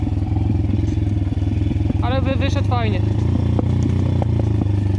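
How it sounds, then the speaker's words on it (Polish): A pit bike engine idles and runs with a steady loud throb, its exhaust giving scattered sharp pops and crackles, while someone talks over it. "niepokoi mnie to szczelanie z wydechu"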